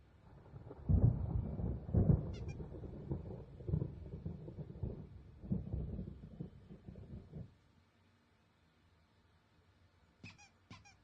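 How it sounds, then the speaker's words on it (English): A thunderstorm in the video game Alan Wake Remastered, with several deep rolling thunder rumbles over wind and rain, loud at first and then fading, broken by a few faint high squeaks. "There's a storm coming. Oh, what a storm."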